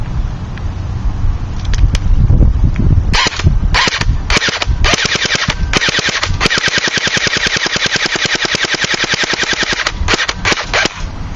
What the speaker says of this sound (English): if you turn it upside down and start shooting again, you can empty out the magazine